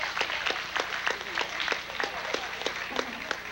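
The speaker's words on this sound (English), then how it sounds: "I'd like you to give yourself a round of applause to kind of warm up this gymnasium" An audience in a gymnasium claps steadily. The claps land in a fairly even rhythm and echo in the large hall, which suggests a modest crowd.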